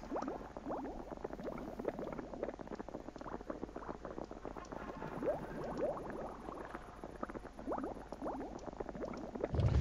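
Food cooking in an oven in the video game Life Is Feudal, a steady dense crackling and bubbling texture, like boiling or patter, that runs evenly throughout.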